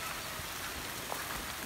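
Steady rain falls in a dense, even hiss, with faint drops tapping on a surface throughout.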